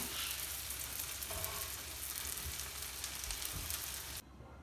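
Loud, constant sizzling of chicken meatballs frying in a hot pan, with occasional soft stirring, cutting off sharply near the end.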